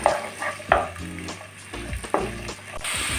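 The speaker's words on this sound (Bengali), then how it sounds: "হালকা ভেজে নিতে হবে।" Potatoes, carrots, beans and cauliflower fry lightly in oil, a near sizzle broken by a handful of sharp spatula clacks and scraping stirs against the pan.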